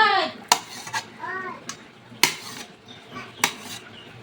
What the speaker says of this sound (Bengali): আমি ডিমটাকে এই যে খুন্তি দিয়ে কেটে নিচ্ছি